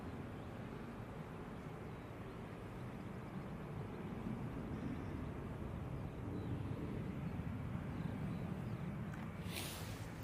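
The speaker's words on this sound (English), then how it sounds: "And there's a stunning Qatar Dreamliner." A Qatar Airways Boeing Dreamliner airliner at Manchester Airport produces a distant, low broadband jet rumble that swells gently over ten seconds, with a brief bright rustle near the end and no speech.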